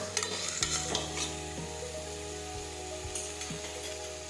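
Valor beans fry and sizzle steadily in a pan while a spoon stirs them, with a few scraping, clanking strokes against the metal; no voices are heard.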